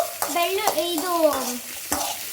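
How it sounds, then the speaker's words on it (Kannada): Onions, green chillies and masala frying in a pan, loud and close, with rhythmic spatula scrapes and stirs over a bubbling sizzle, a few sharp clacks against the pan. "ಚೆನ್ನಾಗಿ ಫ್ರೈ ಮಾಡಬೇಕು. ನೋಡಿ, ಚೆನ್ನಾಗಿ ಫ್ರೈ ಮಾಡಿಕೊಂಡು"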